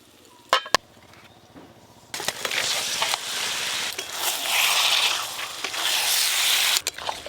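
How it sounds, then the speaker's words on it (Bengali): Marinated mutton dropped into a pan of cooked-down spice paste for a mutton and potato curry sizzles loudly and continuously after a few sharp clinks of utensils at the start. "মশলা তো ভালো করে কষানো হয়ে গেল, এবার ম্যারিনেশন করা মটন দিয়ে দেব।"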